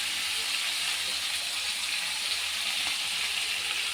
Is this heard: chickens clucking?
no